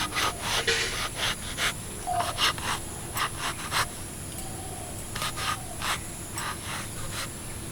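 A knife slices an eggplant into pieces on a cutting surface, giving crisp, close chopping taps in quick irregular bursts with short gaps between runs.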